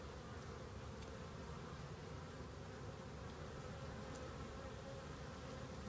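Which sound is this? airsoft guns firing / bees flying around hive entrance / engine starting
bees flying around hive entrance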